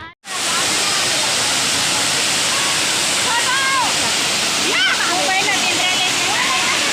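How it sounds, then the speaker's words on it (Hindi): A waterfall roars in a loud, constant rush of falling water, with faint voices heard briefly beneath the noise. "ये दे झरना के सुंदर कन ले आवाज़ आथे।"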